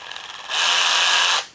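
A battery-powered ratchet wrench with a safety lock and three power levels spins up with a steady mechanical whir and ratcheting buzz, loud and close, running for about a second before it cuts off.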